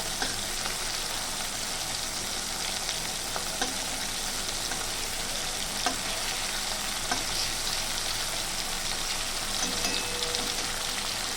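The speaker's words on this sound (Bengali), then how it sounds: "চিংড়ি মাছটা খুব বেশি ভাজা যাবে না, হালকা করেই ভাজবো আমি।" Prawns fry gently in oil in a pan for a prawn malai curry, giving a steady, close sizzle with faint crackles throughout and no voices.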